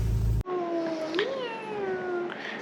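A family of cats at an olive grove in Sicily meows, with one long, wavering, close meow rising and falling after a brief burst of noise, then a softer meow at the end.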